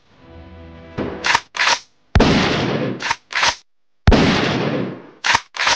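Several sharp gunshot bursts ring out in an audio drama of a supernatural aswang story, loud and close, some sustained with long decaying tails and others as short cracks, following a faint tonal drone.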